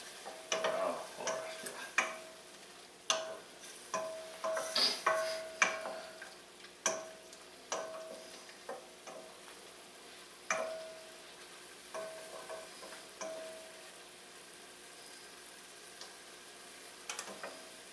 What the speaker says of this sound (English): Let's get that all stirred around.